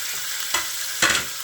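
Ground meat sears in a hot pot with a constant loud sizzle, broken by two brief bursts of sharper crackling as pieces are laid down and stirred, no voices.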